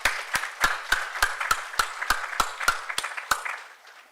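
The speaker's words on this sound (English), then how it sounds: "Can I have a round of applause, please?" Sparse, slow clapping at a pension supervisors' conference: about a dozen sharp, distinct claps at an even rhythm, fairly faint and tapering off at the end.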